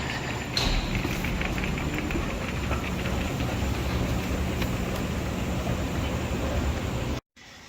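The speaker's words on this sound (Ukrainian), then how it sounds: "Їхав наш потяг." A train passing through the Vienna airport station, a loud, continuous rumble and rail roar holding steady for several seconds before cutting off abruptly.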